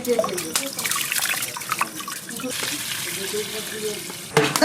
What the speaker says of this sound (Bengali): চালটাকে একটু ধুয়ে নেব ভালো করে। গোবিন্দভোগ চাল,